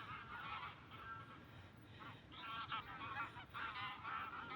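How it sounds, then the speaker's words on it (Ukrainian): A flock of geese honks repeatedly from a distance, overlapping calls rising and falling in faint waves over a soft background hiss. "Гусі полетіли з моря. Ну, кричать."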